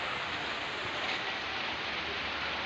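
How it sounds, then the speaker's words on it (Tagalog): Light afternoon rain falls steadily among a collection of potted plants, a continuous even hiss of drops at close range with no voices over it. "umuulan na dito. Pero mahina lang pero at least umuulan."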